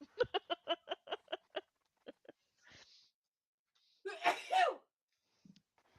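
A single loud, sharp sneeze bursts out in a room after a few moments of quick voiced chatter and laughter, followed by a brief quiet.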